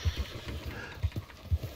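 Horse hooves clip-clop in the Red Dead Redemption video game, a quiet irregular series of soft low thuds in small clusters over a dull murmuring background, with no speech.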